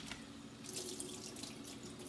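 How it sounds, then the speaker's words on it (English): Hot water running from a tap into a dishpan in a kitchen sink, a steady splashing stream that builds slightly as the pan fills, close but soft, with no talking. "you want a nice pan full of hot soapy dishwater for washing up your dishes"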